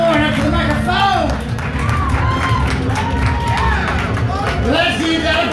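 A poetry slam audience at the Utah Arts Festival team finals claps and cheers loudly and continuously, with whoops and voices rising over the steady applause.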